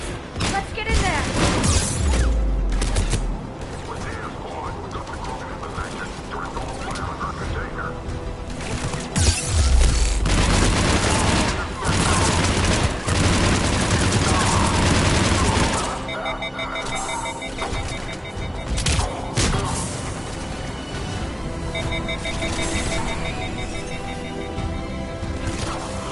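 A battle in the Mass Effect video game brings continuous gunfire and heavy booms around a checkpoint, with a dense layer of combat noise and music under frequent spoken game dialogue.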